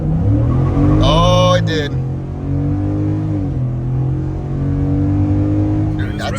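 A Ford F150 pickup with twin turbos revs hard and spins its tires, the engine climbing and falling close by with a brief squeal of rubber, while a voice speaks over it.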